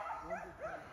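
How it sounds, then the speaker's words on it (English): Hunting dogs chasing swamp rabbits in Arkansas bay and yip in the distance, a couple of drawn-out howling barks carried over steady outdoor background noise. "Having a ball down here listening to these dogs run today."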